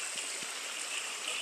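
A flowing stream (potok) is heard as a steady, airy rush of moving water with a few soft low bumps, fairly close and without voices.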